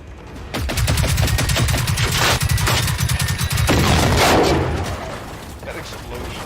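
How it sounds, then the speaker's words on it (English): Loud, sustained rapid gunfire in Generation Zero, with a large hunter robot then blowing up in a big, rumbling explosion; dense mechanical rattling runs throughout and a voice is briefly heard over it. "That explosion, the big hunters blow up, is satisfying as hell."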